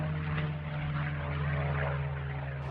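A stock airplane's propeller engine set up for racing drones steadily and loudly up close, a continuous deep throbbing hum with a strong low tone holding through the whole stretch, with no voices.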